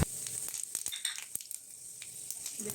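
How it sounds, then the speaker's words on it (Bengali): Panch phoron and dried red chilies sizzling in hot oil in a kadai, a steady quiet crackle with scattered sharp pops and spatters, close up and with no voices. "এরপর কড়াইয়ে একটু তেল নিয়ে আমি ফোড়নে ব্যবহার করছি 5 ফোড়ন শুকনো লঙ্কা।"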